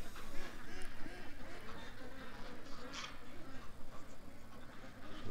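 Ducks quack in short repeated bursts close by, a sickly duck among them, over continuous rustling background noise.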